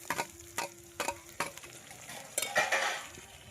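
Tomato pieces fry in oil in a pan for a chicken curry gravy, with a steady low sizzle broken by several sharp scrapes and taps of a spoon stirring against the pan, close and moderately loud.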